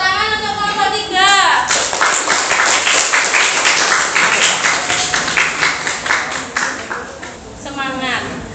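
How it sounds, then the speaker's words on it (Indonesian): A school class claps for a student group after a presentation, a dense burst of close handclapping lasting several seconds, with a teacher speaking at the start and again at the end. "Tepuk tangan untuk kelompok 3."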